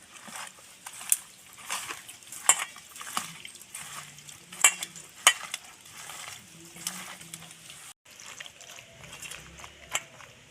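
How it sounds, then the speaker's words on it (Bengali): Spices are mixed by hand into fresh puti fish and prawns with mustard oil, giving soft irregular squelching and clicking taps of a bowl, close and moderately quiet. "এবার আমি সুন্দর করে মাখিয়ে নেব।"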